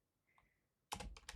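A computer keyboard typed on during a PC gaming session: a brief, quiet burst of rapid keystrokes after near silence.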